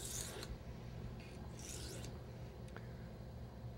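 A chef's knife is drawn across a sharpener in a few back-and-forth strokes, quiet close rasping swipes with a thin metallic scrape.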